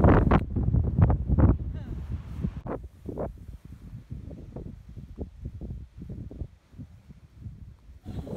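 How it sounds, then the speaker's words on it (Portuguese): Constant wind buffets the microphone on a hilltop above a church and pier in Saquarema, a steady low rush with gusty surges that runs beneath a voice talking throughout. "Aqui em cima faz bastante vento"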